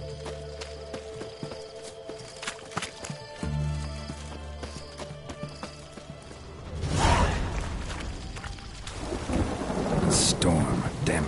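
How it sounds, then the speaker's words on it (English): Thunderstorm in a video game: rain patters with scattered clopping knocks, then a loud rolling thunder crash swells and lingers over heavy rain. "Storm, damn it."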